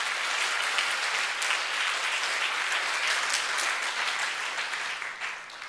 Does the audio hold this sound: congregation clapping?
yes